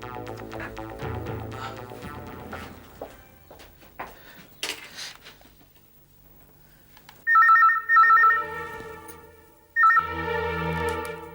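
An old-style telephone rings in a quiet room, with two distinct bursts of trilling bell tones late on. Faint clicks and handling sounds come before them, and a low hum runs under the ringing.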